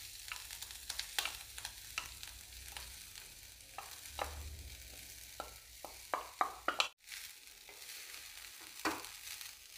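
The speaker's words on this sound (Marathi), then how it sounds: "हे खोबरं हलकंसं परतून घ्यायचं आहे" Fresh grated coconut lightly roasting in a little ghee in a pan over a low flame, a faint sizzle with repeated spatula scrapes and taps, close and quiet, with a sharp knock midway.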